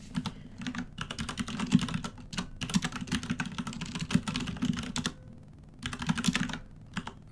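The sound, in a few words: computer keyboard typing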